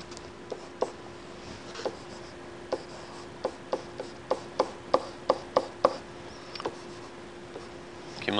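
A lecturer sketches a graph on a classroom board, chalk or marker tapping and scraping in a steady series of short strokes that quicken in the middle, close and fairly clear over a faint room hum.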